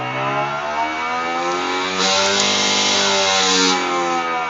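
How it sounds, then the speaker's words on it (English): A computer-controlled RC tug boat motor whirs steadily with a harmonic electric whine, rising in pitch and intensity midway as it ramps up, then easing back, heard close and alone without talk. "the motor ramps up and down quite nicely, programmed beautifully"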